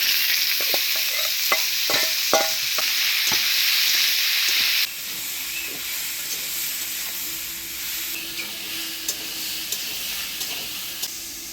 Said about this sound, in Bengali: আলু কাঁঠাল ভাজিয়ে নিলাম